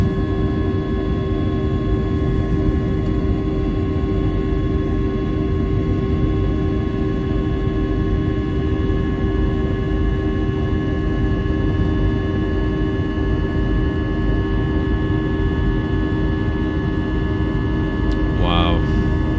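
Airliner engines in Microsoft Flight Simulator after a TOGA takeoff, a constant loud droning hum with steady tonal whine, unbroken throughout, with brief faint background noise near the end.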